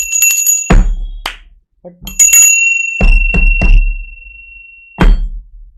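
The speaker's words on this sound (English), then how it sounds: "this bell is awesome" A hand bell struck several times, each ring a sharp metallic strike with a long bright ringing tail, close and loud, in separated bursts with pauses between, a single spoken word slipped in among them.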